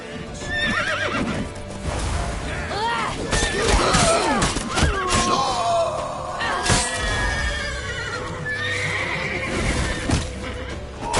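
Horses neigh and whinny repeatedly over galloping hoofbeats and clattering action in the video game The Witcher 3, loud and close, with game-like effects layered throughout.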